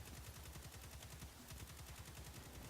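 Valakadyn auto rifle fire from the video game Destiny 2 rattles in a rapid, unbroken burst, evenly spaced shots pounding loud and continuous throughout, with no talking.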